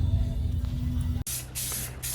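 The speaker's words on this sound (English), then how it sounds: "getting in on some spraying down here" Spray gun hissing as car wheels get painted bright yellow, a steady broadband spray close by that cuts out briefly and resumes in bursts.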